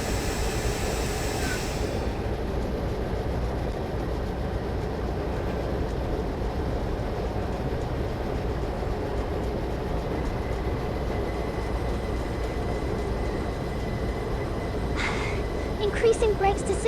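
A train runs steadily in a train simulator game, a continuous broadband rumble and rail noise filling the stretch at even loudness, with a few brief sharper clicks near the end.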